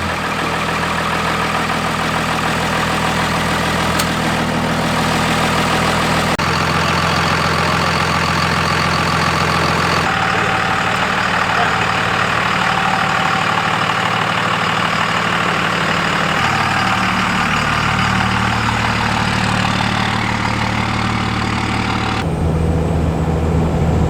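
Rebuilt-transmission Dodge truck engine idling steadily and loudly for a long stretch, a continuous low rumble with a few shifts in tone partway through, with no talk.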